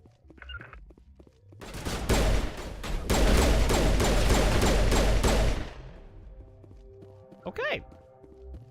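Gunfire in the Mass Effect Legendary Edition video game, a dense burst of rapid shots lasting several seconds, loud and close, with a short pause partway through before it fades out.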